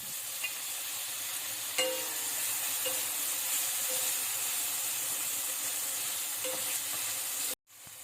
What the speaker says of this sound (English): And we are going to add the diced tomato.